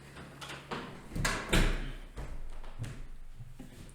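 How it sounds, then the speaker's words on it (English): A door is pushed shut quickly, a sliding rumble building to a solid thud in the middle, followed by fainter knocks and room noise, with no talking. "Quickly close the door."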